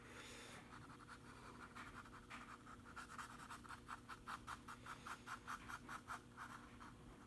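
A pointed drawing stump rubs across paper in quick rhythmic strokes, a close, soft scratchy swishing repeated steadily, with no talk.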